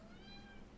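A pet cat meows once, a short, fairly faint call heard indoors under a soft background hum.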